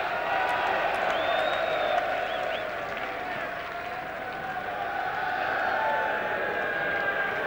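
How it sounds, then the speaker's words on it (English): A large cricket crowd at Trent Bridge applauds and cheers during a 1992 England v Pakistan one-day international, a broad sustained roar with whistles and a commentator's voice over it. "and a big cheer."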